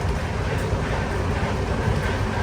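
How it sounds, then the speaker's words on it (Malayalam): An express train in sleeper class runs at about 115 km/h, giving a steady, dense rumble and rushing roar with a faint rhythmic clatter underneath, heard alone without talk. "ട്രെയിനിൻ്റെ സ്പീഡ് ഇപ്പോൾ 115 km/h."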